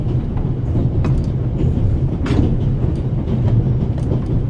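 A moving train in The Raven rumbles steadily with low clattering and scattered faint clicks, a constant interior ride noise with no voices.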